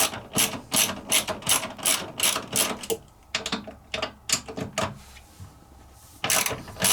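A ratchet loosens half-inch bolts on a Horizon treadmill motor, sounding as rapid clicking runs of the pawl, close and crisp. The runs break off into short pauses and isolated clicks before clicking resumes.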